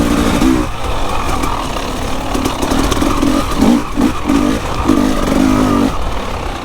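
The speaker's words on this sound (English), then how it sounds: "But you can hear my engine, how bumpy it is." Motorcycle engine on a muddy, bumpy enduro track in the rain, a steady mid-pitched drone whose revs rise and fall in short choppy bursts as the bike crosses rough ground, close and continuous.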